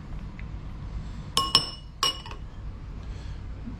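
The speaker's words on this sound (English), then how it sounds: "Clean off our spatula." A metal spatula scraped and tapped clean against a dish in a home kitchen gives three sharp, close glassy clinks in quick succession over a quiet room hum.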